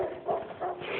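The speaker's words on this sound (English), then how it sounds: "it's not a nasty dog, it's a happy dog" A happy dog met outdoors during a run in a New England snowstorm gives a short burst of two or three close barks and yips, moderately loud, with no talking over it.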